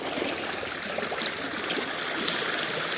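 Strong floodwater rushes past in a dense, steady roar of churning water, loud and close throughout, with no voices over it.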